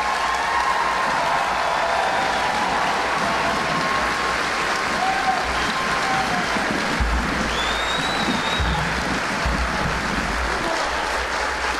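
Sustained applause from a large crowd at an Army basic combat training graduation honoring the new soldiers and their cadre, a dense even roar of clapping lasting the whole stretch.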